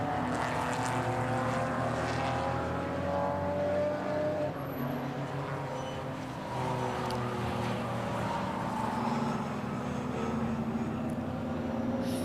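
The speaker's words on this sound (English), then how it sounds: "There's one of the Ascars heading down the hill towards us" An Ascar racing car heads downhill at Silverstone during a V8 sports race, its engine drone rising and shifting pitch at a moderate distance against steady circuit background noise.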